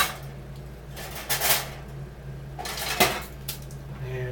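Two pre-made burgers go into a toaster oven with a few sharp metallic clanks and rattles of the tray and rack, close by, separated by quieter gaps over a low background hum.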